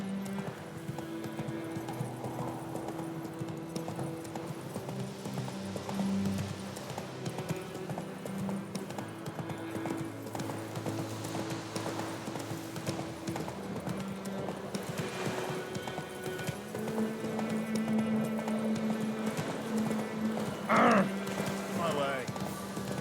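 A horse's hooves clop steadily at a trot in The Witcher 3, a rhythmic thudding under music and game ambience.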